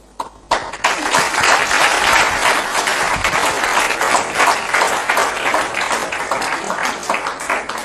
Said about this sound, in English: Once we are done with the clapping part,